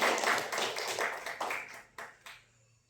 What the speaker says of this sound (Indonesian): Beri tepuk tangan untuk kelompok 2 dan